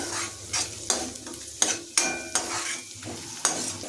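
Finely chopped carrot fries in a pan for ragi soup, a low sizzle punctuated by regular, close spoon strokes scraping and tapping the pan about every half second.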